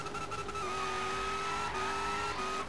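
A high, steady engine whine from an HSV GTSR car in Forza Horizon 3, a sustained tonal howl that bends slightly in pitch over engine rumble, brief and fairly faint.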